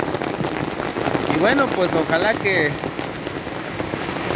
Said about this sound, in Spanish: Vean ustedes qué hermosa lluvia